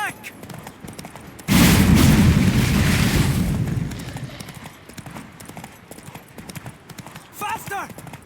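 Horses galloping in the video game The Witcher 3: Wild Hunt, a loud burst of dense, rapid hoofbeats that keeps driving on under the speech of characters calling to one another as they ride.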